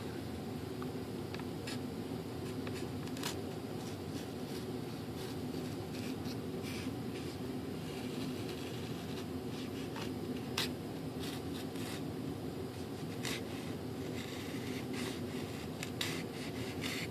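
A flap on a CMPro ASH26 2.6 m composite sailplane model is tapered by hand: a steady, close rasping scrape with sharp, irregular strokes breaking through a continuous gritty rub.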